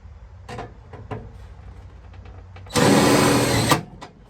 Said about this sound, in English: Go ahead and shoot a self-tapper.